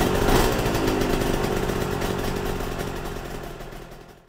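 A two-stroke twin engine with two carburettors and twin exhaust pipes runs steadily at a raised idle of around 2,500 to 3,000 rpm while warming up, a loud, close, buzzing rasp that fades slightly toward the end.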